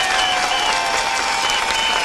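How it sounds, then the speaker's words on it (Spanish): Dense, continuous applause from a large audience at a political address in Venezuela, loud and sustained throughout without a break. "le mandamos un aplauso también desde aquí"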